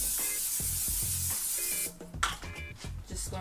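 A steady hiss of cooking spray coats a pan for nearly two seconds, then stops, followed by light clatter and sizzling from the pan while making French toast.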